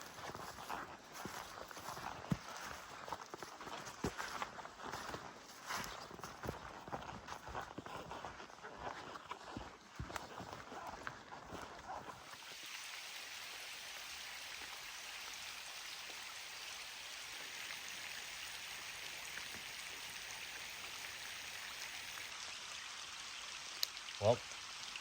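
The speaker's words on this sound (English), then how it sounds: "Rain started up again." Steady rain falling outdoors on a spring canoe trip in Algonquin, a dense, even hiss that runs throughout, with heavier patter in the first half and a smoother, softer wash after.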